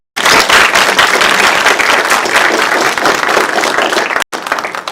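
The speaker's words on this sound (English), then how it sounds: "big thanks and round of applause" A science award ceremony audience breaks into a loud, sustained round of applause, dense clapping filling the room for about four seconds before a brief cutoff and a short resumption.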